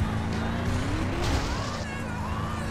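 An underpowered car driven in GTA San Andreas, a continuous engine drone with shifting pitch and faint tire noise, steady throughout with a voice talking over it.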